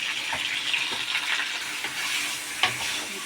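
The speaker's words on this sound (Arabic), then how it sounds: "هنفضل نقلب فيها كده لحد لما تحمر" A spoon stirs chunks of kebab meat frying in a pot, giving a steady close sizzle with soft scraping and one sharper clink near the end.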